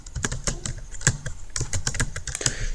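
Rapid, crisp keystrokes clatter on a computer keyboard while entries are typed into a Microsoft Excel 2010 spreadsheet, close and fairly loud in quick uneven bursts.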